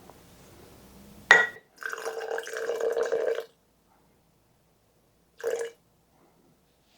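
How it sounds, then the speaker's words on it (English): Water poured into a sourdough starter in a container, a short sharp splash followed by a steady trickling fill, then silence and one brief later pour, close and clear with no talking. "let's go ahead and add 50 grams of water"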